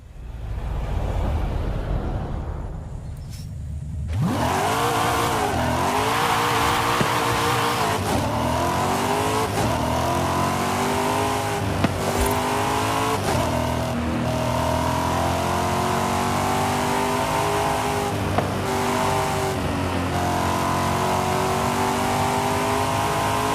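A racing car engine in Forza Horizon 5 revs up hard and loud, climbing through repeated gear-change sweeps over about twenty seconds of sustained, close engine roar.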